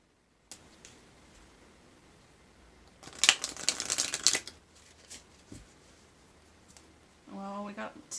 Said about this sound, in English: Some decks are a lot more fun to shuffle than others, that's for sure.